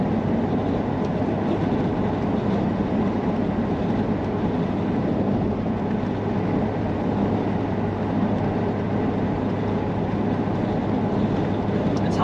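A car driving along an outback road in Queensland gives a loud, steady drone of engine and road noise heard from inside, continuous and unbroken throughout.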